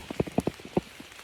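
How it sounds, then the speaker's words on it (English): Rain falls on a tent, scattered drops tapping the fabric in soft, irregular patters close by, a handful of distinct hits in a quiet interior with no speech. "It started raining again."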